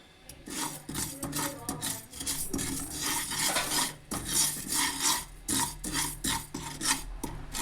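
Sesame seeds with salt roasting in a pan, stirred with a utensil: repeated rhythmic scraping and gritty rasping strokes, close and fairly loud, with no talking over it.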